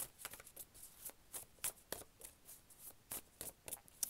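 A card is drawn from a creativity card deck: soft, quiet rustles and flicks of card stock in a rapid series of small brushing taps.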